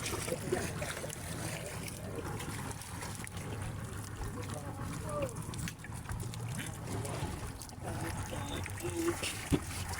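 A boat on a river, with continuous washing, trickling water and a low rumble that stays steady and close throughout, while people talk faintly over it.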